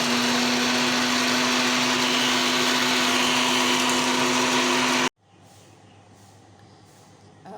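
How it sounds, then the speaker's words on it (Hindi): An electric blender grinds roasted flax seeds, mint and ginger powder into a fine powder with a loud, steady whirring drone that runs for about five seconds, then cuts off abruptly into near quiet. "अब ये सारी चीज़ें तैयार करने के बाद इसको मैं ग्राइंड करूँगी, पीसूँगी पाउडर फॉर्म में।"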